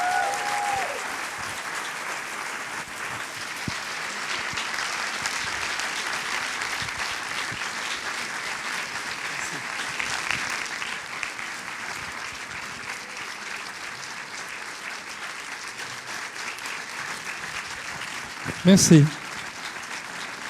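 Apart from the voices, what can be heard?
audience applauding a director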